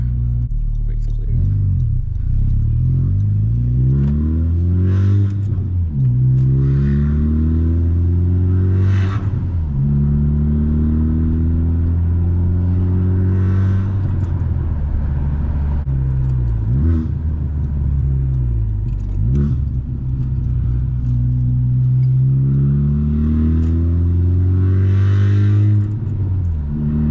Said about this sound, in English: I'm gonna put it in plus R mode. So that way you guys can hear the downshifts a little more.